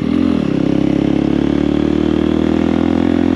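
A motorcycle engine runs close by with a steady droning rumble, its pitch dipping briefly near the start as a gear is shifted up before settling into an even hum.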